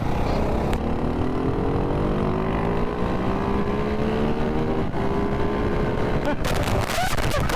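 A supermoto motorcycle, either a Ducati Hypermotard 698 Mono or a KTM 690 SMCR, pulling hard in third gear from about 30 mph, its single-cylinder engine climbing steadily in pitch over loud wind rush.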